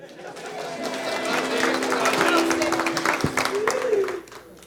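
A short burst of applause from a small group at a family gathering, hands clapping densely and close for several seconds with some voices mixed in, then tapering off abruptly.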